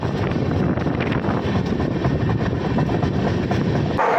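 The Mithila Express running on Indian rails, a loud, steady rumble and rattle of the carriages heard from on board, mixed with wind buffeting the microphone, continuous to the end.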